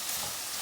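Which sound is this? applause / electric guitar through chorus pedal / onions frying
onions frying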